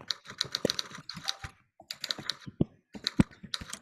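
Children's fingers clatter on computer keyboards in a kids' coding class typing race, bursts of rapid close keystrokes broken by short pauses.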